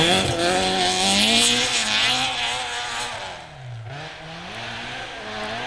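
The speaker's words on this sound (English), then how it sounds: "Sounds like the Escort's just about to pop over the top of that hill." A Ford Escort rally car in a Scottish two-wheel-drive rally climbs toward a hillcrest, its engine screaming and shifting pitch as it revs, then briefly dips off the throttle before pulling hard again, loud and fairly close.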